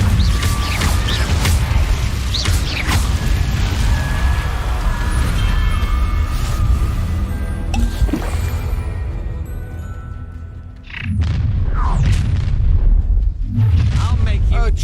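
Incendio fire spell blasts in Hogwarts Legacy, a dense roaring burst of game combat noise with repeated whooshing flares and booms, near and loud, over a wash of music, briefly dipping before another flurry of impacts.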